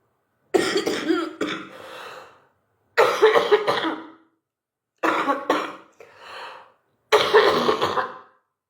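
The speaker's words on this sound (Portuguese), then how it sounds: "O acesso de tosse" A harsh, wet allergic coughing fit brought on by dust in four loud bursts, each a cluster of rapid coughs and throat-clearing rasps separated by brief silences, close to the listener.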